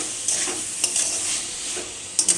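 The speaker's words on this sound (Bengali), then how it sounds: "একটু লবণ, দিয়ে মশলার সাথে এগুলো কষাবো" Potatoes stirred with salt and spices in a pan, a constant close sizzle broken by a few quick scraping clicks of the spatula, with no voices.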